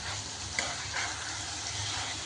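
Chilli powder stirred into hot oil for a chicken gravy gives a steady close sizzle, with a couple of brief spoon scrapes breaking through.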